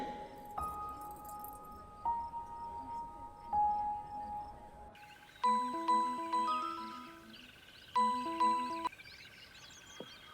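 A phone ringtone plays bright, repeating chime-like melodic tones, first a slow pattern then a quicker jingling phrase that recurs, fairly close.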